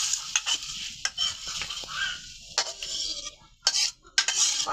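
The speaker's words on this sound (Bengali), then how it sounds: "সিদ্ধ করা ডুমুরটি দেওয়া হয়ে গেলে ভালোভাবে নাড়াচাড়া করি" Boiled figs being stirred in a pot, a close utensil scraping and clinking against metal in irregular strokes with brief pauses and a light sizzle underneath.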